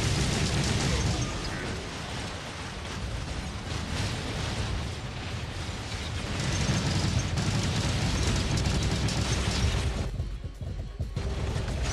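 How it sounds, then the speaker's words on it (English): Rockets fire and explode in War Robots as a dense, continuous roar of blasts and mechanical clatter, loud and sustained with little letup before a brief dip near the end. "I got some rockets for you."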